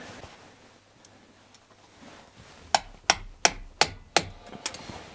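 A series of six sharp metallic hammer strikes on a pin during car suspension work, evenly spaced and fairly close, following a quiet stretch of faint background noise.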